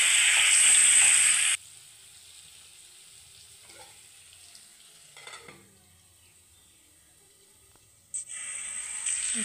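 Potatoes frying in a pan produce a loud, bright sizzle that cuts off abruptly, leaving a long stretch of near quiet with faint movements, before the strong sizzling hiss returns near the end.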